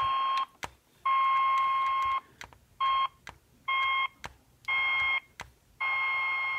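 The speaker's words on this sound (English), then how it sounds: "you can hear the tone when we get close again to the resonant frequency there" Steady beep-like audio tone from a tunable receiver set near 423 kHz as it nears the resonant frequency of an LC circuit under test, sounding in repeated bursts of about half a second to a second, separated by short clicks and gaps.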